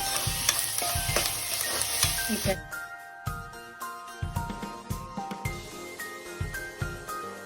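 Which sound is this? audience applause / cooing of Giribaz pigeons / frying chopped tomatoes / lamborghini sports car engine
frying chopped tomatoes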